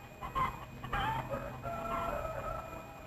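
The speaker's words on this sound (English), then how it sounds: "Ever see a rooster with earrings?" A rooster clucks and calls in a 1940s Mexican fiesta film soundtrack, several wavering, medium-loud calls over a hissy, noisy old recording.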